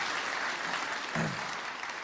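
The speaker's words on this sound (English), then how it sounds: "Give him a round of applause just to encourage him to start off with." A church audience gives brief applause at a Sunday service, soft and somewhat distant clapping lasting about two seconds at an even level.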